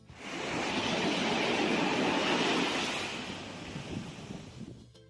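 Ocean surf washing along a Barcelona city beach, heard while wading through the shallows; a steady, loud broadband wash swells then gradually eases, with splashy water movement near the end.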